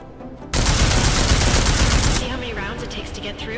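Sustained burst of automatic gunfire in Deus Ex: Mankind Divided, loud and dense for about a second and a half before cutting off into quieter rattling debris and ambience.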